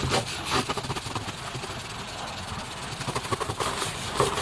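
A brush scrubs a bicycle chain in rapid rhythmic back-and-forth strokes, a steady gritty rasping up close that runs throughout at moderate loudness.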